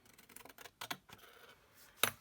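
Big scissors notching a cardboard gift box, several short crisp snips and rustles building to one loud sharp cut near the end, close and alone without talk.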